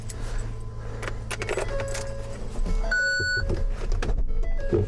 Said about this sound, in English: Oh yeah, keys on the seats.